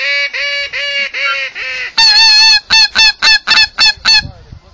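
Geese honk loudly overhead as flock after flock comes in during a South Dakota duck and goose hunt, a nearby run of long calls followed by a quicker series of short, clipped honks.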